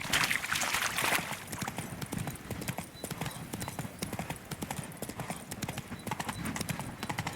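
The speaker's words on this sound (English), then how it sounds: "Spooking my horse." Horse hooves clip-clopping in the Witcher 3 video game, a brisk, steady run of close hoof beats at walking-to-trotting pace, with faint ambient sound underneath.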